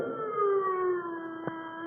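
A wailing siren sound effect from a Halloween horror show, a steady rising-and-falling howl that fills the short clip, with a brief sharp click near the end.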